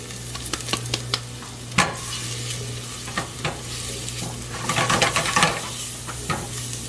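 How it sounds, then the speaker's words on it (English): Chopped red onion sautéing in olive oil over medium heat for grape leaf stuffing, a soft steady sizzle broken by a few sharp spoon scrapes and a busier stirring burst near the end, close by with no voices. "Going to saute it in that olive oil."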